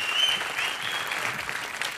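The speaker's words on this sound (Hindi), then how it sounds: "जोरदार तालियां हो जाए अनुष्का के लिए" Studio audience at a comedy talk show applauding loudly and steadily, a dense wash of clapping that carries on without a break and with no talk over it.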